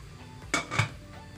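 A metal lid set onto a cooking pot of simmering jackfruit for ginataang langka, giving two close, sharp clanks about a quarter second apart and then a quiet background.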